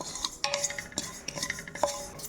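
Whole spices stirred and lightly roasted in a dry kadai, with quick scraping and rattling taps of a utensil against the metal pan, close and fairly quiet, no talking.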